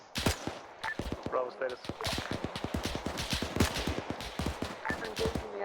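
Rapid bursts of MG42 machine gun fire in the WWII shooter Iron Front, loud and near, with other gunshots mixed in and voices calling over radio chatter.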